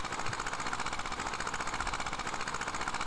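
Small two-cylinder Zetor HMT 2511 mini tractor engine in Farming Simulator 18, a continuous rough, rapid chugging drone at steady volume, close and unbroken, with no talk over it.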